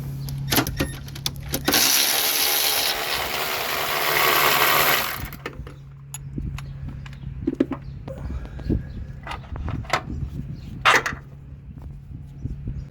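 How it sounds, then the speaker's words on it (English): A 17mm bolt is worked off an Acura Integra transmission mount, with a loud sustained whirring power-tool run for a few seconds followed by scattered metallic clicks and clanks of handling. "Just remove this 17mm bolt."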